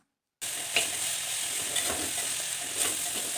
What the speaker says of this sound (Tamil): மஞ்சத்தூளையும் போட்டு நல்லா வதக்கிக்கலாம்